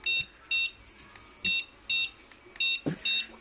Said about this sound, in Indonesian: Coba Kang Majid pencet remote ini satu kali, buzzernya bunyi